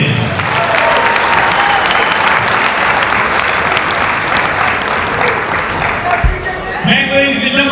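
A crowd in a gym applauds a senior at a high school Senior Night basketball event between Woodward and Anadarko, sustained, dense clapping that fades near the end as an announcer's voice comes in.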